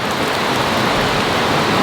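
Heavy rain pours down in a dense, unbroken hiss, loud and close, with no voices.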